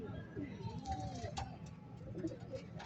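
Racing pigeons returning to the loft from a release in Sariaya, Quezon, with soft low coos and occasional chirps over a steady rumbling background, while someone talks throughout.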